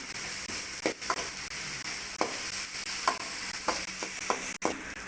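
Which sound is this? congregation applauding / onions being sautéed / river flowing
onions being sautéed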